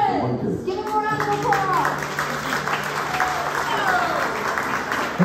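An audience at Albert Hall in Waretown, New Jersey claps for a speaker being introduced at a live music show, dense, steady applause with voices mixed in throughout.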